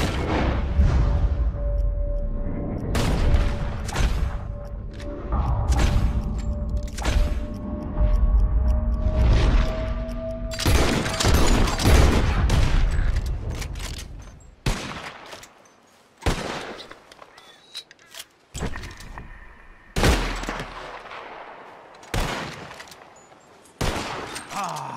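Repeated gunshots ring out while hunting birds in Red Dead Redemption 2, sharp loud cracks in irregular clusters over a steady background, thinning to scattered single shots with quiet gaps later on; no speech.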